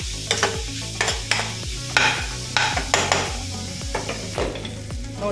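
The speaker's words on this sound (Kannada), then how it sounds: "ಸಬ್ಬಕ್ಕಿ ಸೊಪ್ಪು ಮತ್ತು ಈರುಳ್ಳಿ ಎಲ್ಲ ಫ್ರೈ ಆಗಿದೆ" Sago, greens and onion fry in a pan, with a soft sizzle beneath repeated rhythmic scrapes and clinks of a spoon stirring against the metal.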